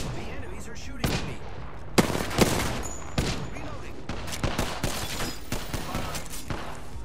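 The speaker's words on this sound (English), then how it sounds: "The enemies are shooting at me." Enemy gunfire in Apex Legends: bursts of rapid automatic shots and sharp single cracks erupt repeatedly, loud and close, with brief gaps between volleys and some talk alongside.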